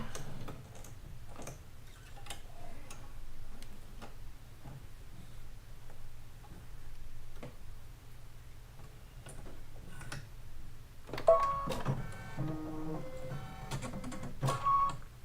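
A computerized sewing machine stitching out the center of a quilt block: steady rapid mechanical ticking and whirring with a low motor hum, close, joined near the end by a short burst of electronic beeps and tones.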